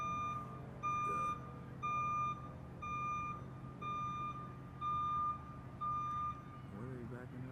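Reversing beeps from a backing vehicle sound at the scene of a police investigation on a city street, a steady series of evenly spaced loud tones over traffic rumble and faint background voices.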